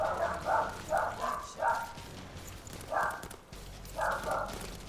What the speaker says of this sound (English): They probably see like someone walking their dogs next door.